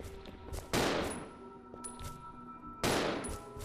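Two loud, sharp gunshot bursts from Resident Evil Zero, the first near the start and the second toward the end, each trailing off into a decaying echo over a low ambient game drone.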